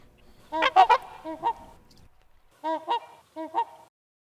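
Trumpeter swans call from ice in late winter, giving loud, brassy honks in two clusters: a quick series of four or five notes, a pause, then three more, with no other sound between.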